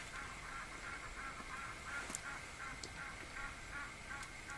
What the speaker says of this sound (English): it is dead silent except for the birds in the background